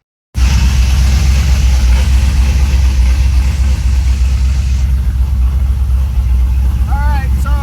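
A 1987 El Camino with a swapped-in LS V8 engine idles steadily with a deep, continuous low rumble throughout, close and loud, with faint chirps near the end.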